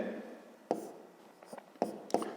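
Pen or marker writing out coordinates on paper for a fifth-grade maths exercise, heard as a few short scratchy strokes and taps spaced apart over a quiet, low room hum.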